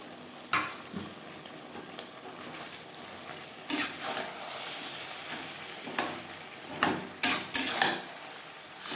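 Tender bottle gourd stems are stir-fried with spices and beans in a pan, with intermittent scrapes and clanks of a spatula against metal over a soft, steady frying hiss, strokes clustering toward the end.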